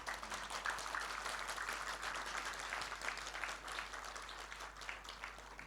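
A hall audience at a professional motivational talk in India claps heartily, a dense, even wash of applause that carries on without letup for several seconds.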